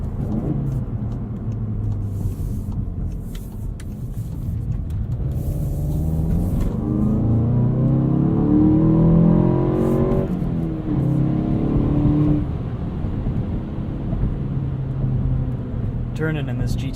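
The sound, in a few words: 2016 Volkswagen GTI SE engine accelerating in sport mode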